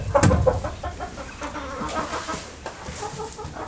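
Chickens kept in a greenhouse during a bitter winter cold snap cluck and chatter close by, with a louder squawk at the start followed by scattered soft clucks.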